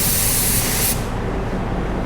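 A hobbyist paint spray gun sprays sealer in a test pattern inside a paint booth, a loud steady close hiss that cuts off after about a second, leaving a softer airy rush.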